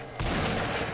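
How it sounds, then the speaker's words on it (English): A shotgun blast in the I Am Alive video game, a single loud close boom that starts abruptly and rings out for the rest of the moment. "Gonna switch to our shotgun here."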